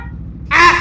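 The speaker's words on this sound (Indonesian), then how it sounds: "Kalau di klakson bunyinya gini," A sudden, loud, nasal horn blast, brief and close, from a Yamaha XMAX 350cc scooter, following a low engine idle.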